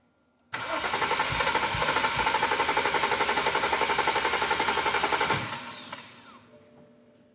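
A BMW engine with DME/CAS/EWS terminal 15 faults cranks for about five seconds without starting: a loud, steady, rhythmic starter churn that stops abruptly, followed by faint quiet.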